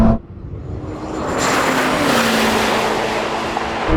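A Lamborghini Temerario and a Ferrari SF90 launch side by side in a drag race, with a loud roaring engine surge that climbs and holds, tires briefly squealing, heard close and without talk.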